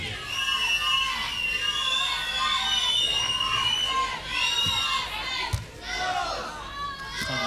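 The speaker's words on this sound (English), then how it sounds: "the crowd enjoyed that rally" A tennis match crowd cheers and shouts loudly after a long rally, a sustained burst of voices that dips briefly and swells again, with a commentator speaking over it.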